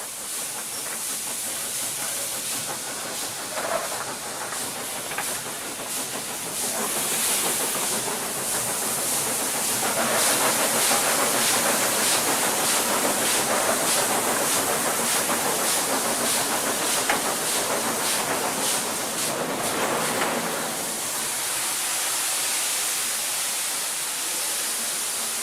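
Steam locomotive King Edward I working uphill with the cut-off and regulator adjusted, a loud continuous roar of steam and hiss with rhythmic exhaust beats, close and sustained throughout.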